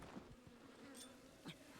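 Bees buzz in the video game Zelda Breath of the Wild, a faint, low droning hum with a few soft clicks, short and quiet, with no voices.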